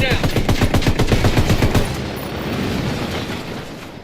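Gunfire in Ghost Recon Wildlands Ghost Mode erupts as a fast automatic burst of loud, evenly spaced shots for about two seconds, then cuts off and leaves a fading rumble and quiet ambience.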